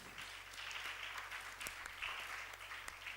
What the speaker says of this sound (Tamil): கைத்தட்டி கருத்தருக்கு நன்றி சொல்லு